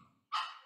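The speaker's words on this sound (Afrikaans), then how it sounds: "hierdie hondjie van my" A small dog gives one short, sharp bark, close by and fairly quiet, after a brief moment of faint background sound.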